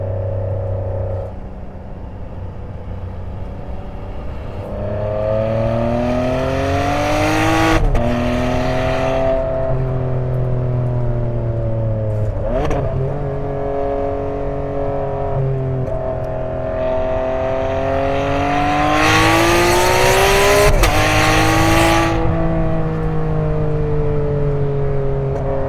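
A silver 2009 Ferrari 599 GTB Fiorano engine revs hard and climbs steadily through the gears, with two sharp, dramatic gear shifts cracking through the loud, continuous engine roar.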